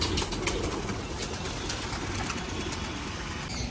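Pigeons cooing inside a pigeon colony, a dense continuous murmur of soft coos and rustling close by, with a faint engine hum in the background.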